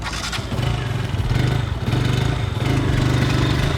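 A KTM RC200 motorcycle sits in neutral, its exhaust giving a steady, close, throbbing note with a low pulsing beat and no talk over it.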